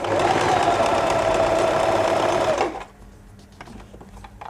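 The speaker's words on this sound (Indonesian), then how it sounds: "Kita ganti lagi panjang jahitannya 3. Oke. Lebar jahitannya juga 3." A sewing machine set to stitch length 3 and width 3 runs loud and close in a steady whirring burst for about two and a half seconds, then stops, leaving quiet room noise.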